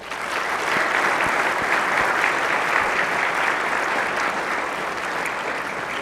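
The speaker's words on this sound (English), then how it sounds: "if I could please draw a round of applause for everyone who has been a part of this program" Steady, sustained applause rises from the Senate gallery, a full crowd clapping continuously for six seconds without a break.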